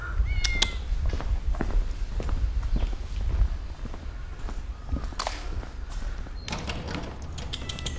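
A cat meows a few times, brief and somewhat distant, among the Forbidden City palace grounds in Beijing, with rustling and footstep-like knocks in the background.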